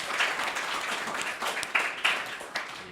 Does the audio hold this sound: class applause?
yes